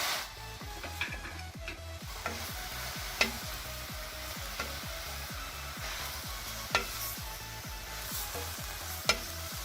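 Steady sizzling as mushrooms fry in butter in a pan, with a spoon repeatedly scraping and stirring in a regular rhythm and occasional sharper clinks.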